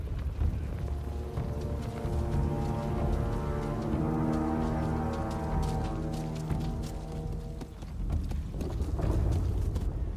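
Horse hooves clip-clopping in the video game Ghost of Yotei, a steady rhythmic trot under a sustained, swelling orchestral drone with no voices.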